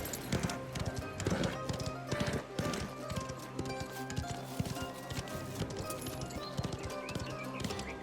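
Hooves clip-clop at a fast gallop from a horse in the Mafia video game, a steady rapid rhythm of hoofbeats carried over a dense, busy game soundscape with occasional whinnies and shouts.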